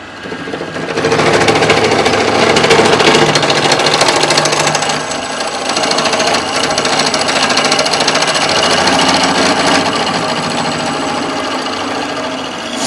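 An old power drill runs loud and continuous for the whole stretch with a rough, grinding whine, dipping slightly midway, while a bay window curtain pole is fitted.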